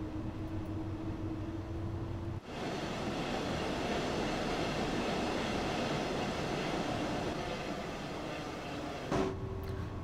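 A BR 143 electric locomotive in Train Sim World 3 on the Rhine-Ruhr route near Hagen Hauptbahnhof gathers speed, its broad, steady rumble and rail roar filling the whole stretch after a brief lower hum at the start.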